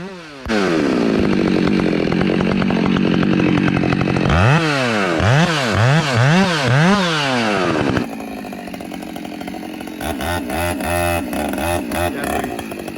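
Husqvarna 572 and 394 chainsaws felling a decrepit tree, running loud and close at a high steady whine that rises and falls in repeated revving cycles as they cut.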